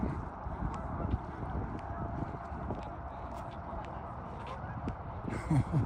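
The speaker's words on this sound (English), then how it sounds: "There's lots of geese. There's probably 100 over there." A large flock of geese at Cascade Lake gives faint, scattered honks at a distance over steady outdoor background noise, with a slightly louder call near the end.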